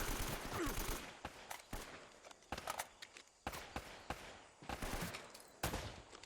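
Bursts of gunfire in Uncharted: Drake's Fortune, with rapid volleys of shots in separate clusters between brief lulls, loud and close, with no talking.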